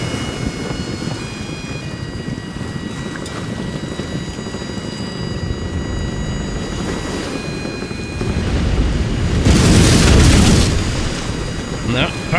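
Ship cannons fire in an Empire Total War naval battle, rolling deep booms swelling loudly near the end over a steady background of sea and battle noise with faint tonal music.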